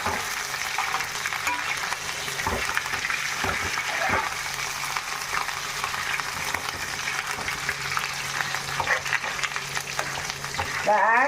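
Slit green chillies hiss and crackle in hot oil for an Andhra-style fish curry, a steady close sizzle running throughout with a few stirring clatters, and a voice briefly heard beneath it.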